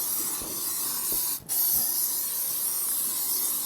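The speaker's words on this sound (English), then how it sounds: "I'm just gonna spray some oil in the bottom" A continuous hiss of cooking oil is sprayed into the bottom of a large bowl for dough. It is close and steady, with one brief pause mid-spray.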